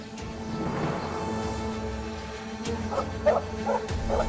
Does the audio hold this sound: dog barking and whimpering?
yes